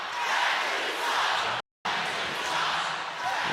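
Crowd in a basketball arena at a WNBA game between New York Liberty and Chicago Sky, booing a foul in a loud, sustained roar that cuts out briefly before resuming.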